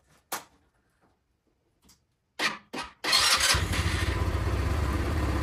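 A GY6 scooter engine with a newly installed carburetor, a few clunks and starter cranks, then it catches and settles into a loud, steady idle close by.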